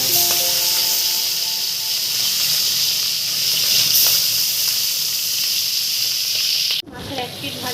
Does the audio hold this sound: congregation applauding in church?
no